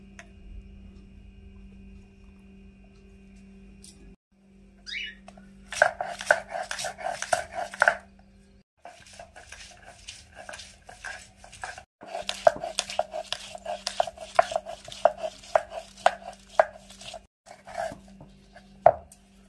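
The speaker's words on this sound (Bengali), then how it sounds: "আদা রসুন আর কাঁচা লঙ্কাগুলো একসাথে বেটে নেব।" Ginger, garlic and green chillies pounded together on a grinding stone in a home kitchen, a close run of rapid rhythmic thuds in bursts separated by short pauses, with a low steady hum underneath.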